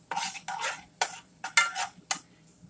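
Onions cooking in butter are stirred in a pot, giving a series of about six short scraping strokes of a utensil against the pan in a loose rhythm, with little sizzle.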